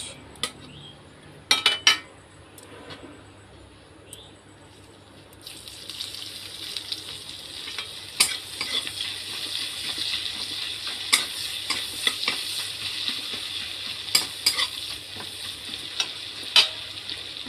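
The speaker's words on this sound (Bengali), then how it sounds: "দিলে পারে পেঁয়াজটা তাড়াতাড়ি ভাজা ভাজা হয়ে যাবে" Oil sizzles steadily after chopped onions are added to a hot pan, with occasional clinks and scrapes of a utensil stirring; no voices.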